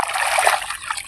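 Water is splashed by hand onto freshly applied wall plaster to cure it, a short burst of close, wet splattering and trickling with no pause.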